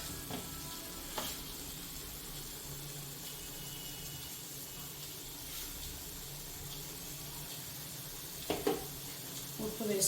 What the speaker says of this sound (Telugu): టమాటాలు మగ్గుతున్నాయి.